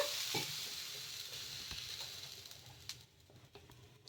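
A ladle of rava dosa batter hitting a hot pan on high heat and spreading out, giving a loud hiss at first that gradually fades into softer crackling and sputter.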